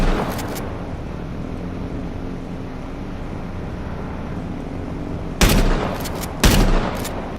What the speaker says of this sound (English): Here's another bit of that action with the shotgun after the Hellfire.